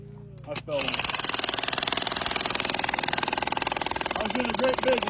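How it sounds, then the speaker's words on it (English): A jackhammer breaks shale rock in a vein matrix, kicking in after a brief start and then pounding in a rapid, loud, steady rhythm close by, while a voice speaks briefly near the end. "I felt the jackhammer drop."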